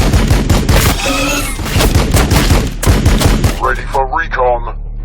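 Dense, loud volleys of unit gunfire crackle in Warhammer 40,000: Battlesector, rapid overlapping shots in bursts, with a voice speaking briefly near the end as the firing drops away.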